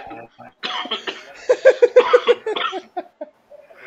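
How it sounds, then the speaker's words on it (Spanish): A person's coughing fit breaks out amid laughter during a Gartic Phone session with friends, a run of rapid, loud coughs and giggles close to the microphone, with voices mixed in. "yo no aguanto la tosedera con la risa"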